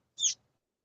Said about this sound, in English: those are laying chickens